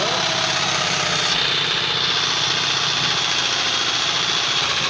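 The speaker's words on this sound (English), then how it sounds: "cutting half-inch steel with a jigsaw" A jigsaw with a metal blade cuts through half-inch steel, producing a loud, constant, vibrating grind that holds steady from start to finish, close up.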